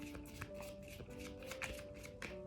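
Tarot cards being shuffled by hand, a quick, soft run of riffling flutters and light slaps repeating close by at low volume, without speech.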